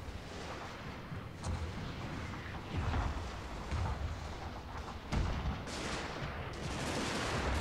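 Artillery fire and musket volleys in a Total War: Shogun 2 Fall of the Samurai battle, a dense continuous rumble of distant booms and crackling shots with sharper blasts near the third and fifth seconds, no talking.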